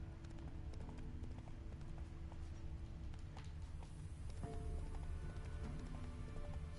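Hooves of Roach, a horse in The Witcher 3 video game, clip-clop in a quick steady galloping rhythm, close and continuous over a low ambient bed, with no talking.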